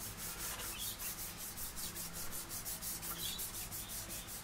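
Steady rhythmic rubbing of 2000 grit sandpaper by hand across a guitar body veneer, with quick back-and-forth strokes, close and soft, with no talking.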